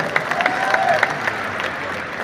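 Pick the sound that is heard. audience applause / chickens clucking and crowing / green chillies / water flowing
audience applause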